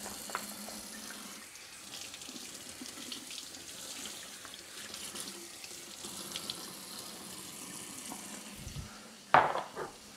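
Cold tap water runs steadily over baby back pork ribs at a mobile smoker setup, a continuous hiss and splash with shifting rinsing sounds and a brief sharper clatter near the end.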